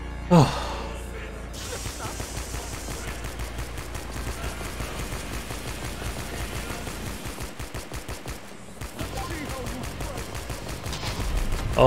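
Explosions and rapid gunfire fill a frantic firefight in the first-person shooter Fashion Police Squad, a dense continuous barrage of booms and shots with loud bursts at the start and near the end.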